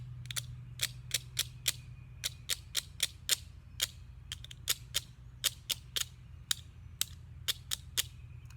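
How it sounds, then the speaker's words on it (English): A stick scrapes across a pine cone like a guiro outdoors, making a fast run of sharp, dry clicking ticks in uneven rhythmic bursts, close and crisp over a faint low hum. "took this pine cone, and tried making some scrape sounds like a gyro"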